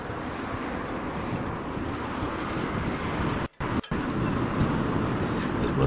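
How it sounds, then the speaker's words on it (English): Red Jet high-speed ferry crossing from the Isle of Wight, a steady broad rushing roar of engines and water, fairly loud and continuous with a brief dropout midway and no talk. "Red jets shooting over from the Isle of Wight."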